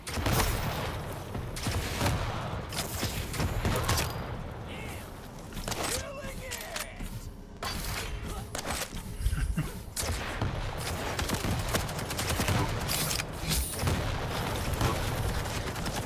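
Rocket launcher firing in a fast arena shooter, Quake Champions: repeated heavy launches and bursting impacts in a dense, busy game mix, with someone talking throughout.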